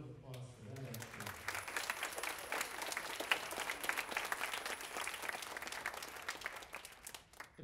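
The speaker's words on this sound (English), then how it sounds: "So a round of applause for that" Sustained applause from an audience at a school band winter concert, dense clapping filling the whole stretch at steady volume, with a few voices briefly audible at the start.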